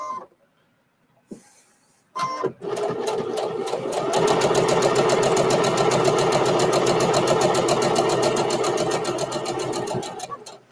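A domestic sewing machine stitches fabric in a fast, steady mechanical rattle that runs for several seconds after a few soft handling knocks, with backstitching in the run.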